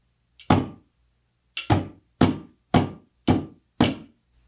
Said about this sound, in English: Cherrywood heard a tap, then another tap, tap, tap, tap, tap.